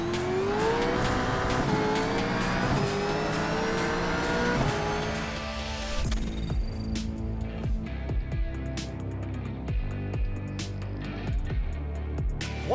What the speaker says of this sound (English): Oh, that limiter sound. That limiter sound.